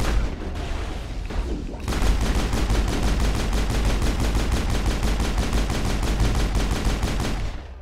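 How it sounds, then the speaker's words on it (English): Rapid gunfire, a shotgun among it, in a Mass Effect 1 firefight, loud and dense bursts hammering almost continuously after a quieter opening moment. "Garrus, why are you using a shotgun?"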